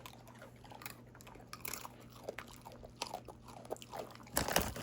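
Two dogs eating side by side produce steady crunching of food, many small close bites and chews in an uneven rhythm, with a louder burst near the end and no talking.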